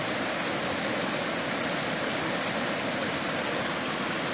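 A river flows steadily in a continuous, dense wash of rushing water, close and even, with no voices.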